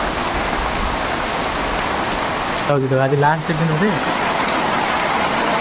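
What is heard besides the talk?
rain falling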